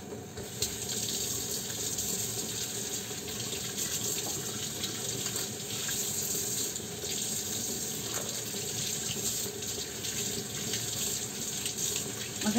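Tap water runs steadily into a sink for the whole stretch while noodles are being prepared for lunch, a close, continuous splashing flow with no talk over it.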